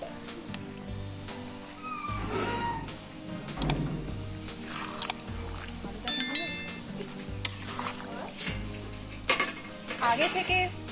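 Water poured into a pot of sizzling chicken curry cooked over a coal fire in a village kitchen, loud bubbling and spattering with clanks of a pot and spoon, while a voice talks intermittently over it.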